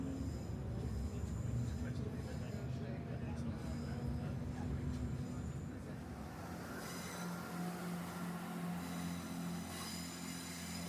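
Inside a class 165 train on the Severn Beach Line, a steady low rumble of wheels and motor fills the carriage, easing down midway as the train slows, with faint squeals.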